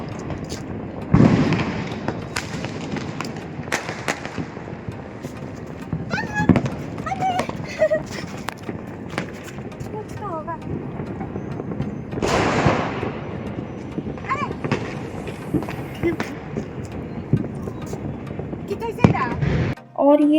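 Diwali firecrackers, bidi bombs and small chutput bangers, go off in irregular bursts of cracks and pops over a steady crackling background, some near and loud, others farther off. Voices can be heard in the background.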